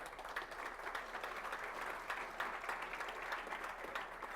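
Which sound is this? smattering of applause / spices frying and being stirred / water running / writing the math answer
smattering of applause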